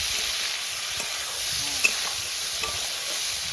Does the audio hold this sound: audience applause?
no